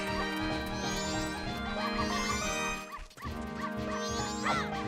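A cartoonish dog yips and barks repeatedly in Majora's Mask over busy game music and effects, the short barks bunched near the start and again toward the end.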